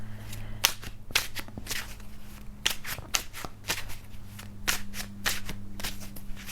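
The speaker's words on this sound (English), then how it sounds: "I'm going to pull a confirmation card." Tarot cards are shuffled and pulled in a series of quick, crisp riffles and snaps, close and fairly soft, arriving in uneven bursts over a low steady hum.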